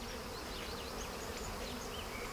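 Dense, steady buzzing from a mass of honeybees clustered over an exposed hive, defending it with their bodies against hornets; a continuous close drone with no pauses.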